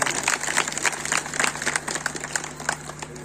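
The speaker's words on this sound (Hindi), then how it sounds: "तो एक बार भैया जी के लिए जोरदार तालियां हो जाएं।" Loud applause from villagers at a religious gathering in a village in Kanpur Dehat, dense clapping filling the whole stretch over a steady low hum, with no clear voices.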